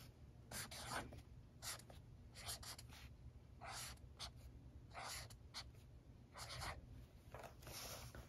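A pencil writes a word by hand during a first-grade phonics lesson, making soft, close scratchy strokes in short separate bursts with small pauses between letters, quiet against a faint background hum.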